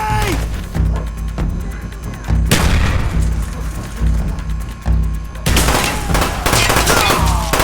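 A grenade explosion and heavy gunfire in Call of Duty Black Ops, loud, rapid bursts of shots and deep booms crowding together, with surges of blast noise at several points.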